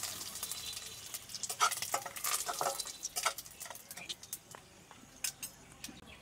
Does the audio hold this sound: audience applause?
no